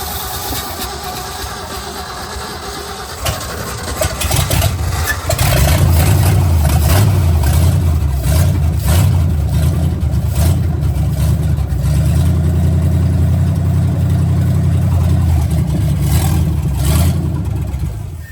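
A 1965 Ford F250 pulling truck engine cranks over briefly, then catches and fires into a loud, steady, rumbling run that holds close and unbroken to the end.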